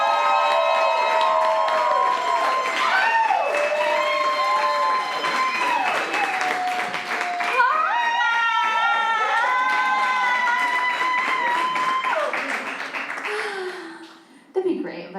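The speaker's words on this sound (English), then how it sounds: "Please help me with a huge round of applause." A comedy club audience in New York applauds steadily as a comedian is brought to the stage. The clapping stays loud for about fourteen seconds, mixed with voices and tonal sounds, then drops off sharply near the end.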